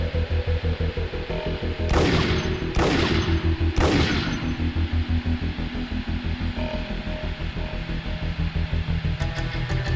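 Three loud gunshot bursts from the Max Payne PlayStation 2 video game ring out close together early on, over a steady pulsing game soundtrack that continues throughout.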